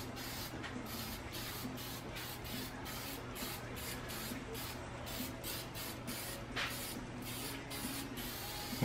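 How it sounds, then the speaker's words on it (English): Adhesion promoter sprayed from an aerosol can onto a crusty 2001 Honda Accord rim, a series of short hissing bursts in steady rhythm, close and moderately loud, with no talking. "I found a can of adhesion promoter, which helps the paint bond to the metal, to the materials"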